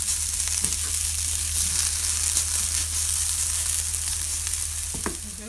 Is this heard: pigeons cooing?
no